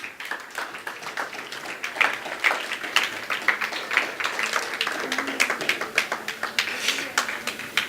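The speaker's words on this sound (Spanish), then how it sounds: "Dele un aplauso al Señor." Steady applause from a church congregation, many hands clapping in a dense, continuous patter that holds at an even level throughout.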